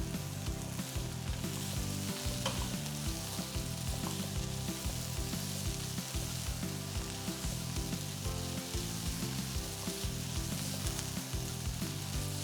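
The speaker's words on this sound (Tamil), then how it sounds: "தக்காளி வந்து இதில் நல்லா வதங்கிடணும், ரொம்ப முக்கியம்" Tomatoes and chillies sauté in a hot pan for a spicy red chilli sauce, giving a steady, soft, continuous sizzle with faint occasional clicks of stirring and no voices.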